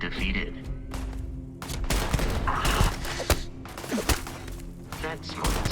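Rapid bursts of gunfire in the sci-fi video game Starfield crackle loudly and close, overlapping into volleys with sharp single shots and thuds, while voices talk over the battle.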